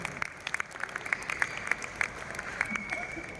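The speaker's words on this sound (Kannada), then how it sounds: "ಸೊ ನಿಮಗೆ ಒಂದು ಜೋರಾದ ಚಪ್ಪಾಳೆ ಬರಲಿ." Brisk, rhythmic clapping at a flameless cooking competition, a quick even run of claps at moderate volume with a faint murmur of voices underneath.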